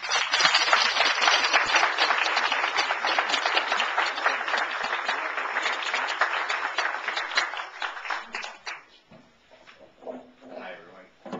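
An audience claps warmly to welcome author Garth Stein, a steady dense roar of applause for about eight seconds that thins into scattered claps and fades out.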